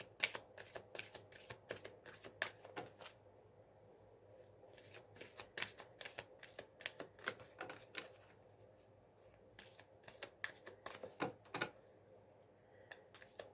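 Oracle cards being shuffled by hand, rapid crisp riffling flicks in quick bursts with short pauses, close and fairly quiet, with no voice over them.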